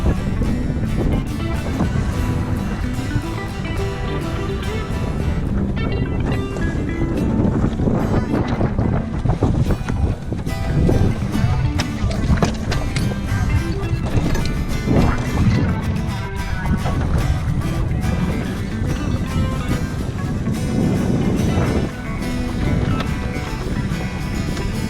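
A Drascombe Lugger sailboat under sail off Ensenada, with strong wind buffeting and continuous water rushing along the hull, loud and close throughout.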